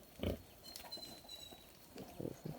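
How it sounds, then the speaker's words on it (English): A pig on a farm grunts and oinks several times in short, irregular bursts, fairly faint and close, with light background noise. "Where this a pig come from?"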